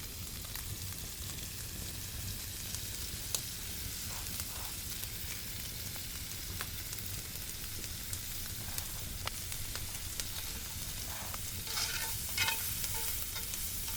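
Pork tenderloin seasoned with salt and ground pepper fries in a pan, giving a constant dense sizzle with faint spatter crackles throughout and no voices.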